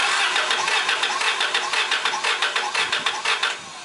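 A car engine cranks over on the starter during a compression test, a fast even chugging rhythm held for a few seconds before it stops, loud and close with no talk.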